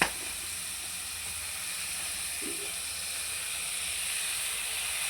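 Steady broadband hiss and sizzle of tomatoes sautéing in a hot pan, continuous and even throughout with no voices.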